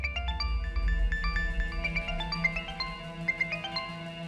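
A phone ringtone plays a quiet, repeating electronic melody of bright, plucky notes in a steady rhythm, heard alone without talk.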